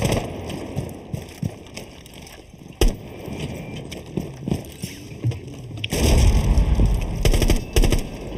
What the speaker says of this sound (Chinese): 机枪，厕所机枪。